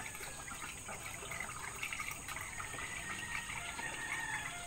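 Water gushes steadily into a container for making a probiotic drink for chickens, a continuous rushing pour that holds at a constant level throughout, with no voices.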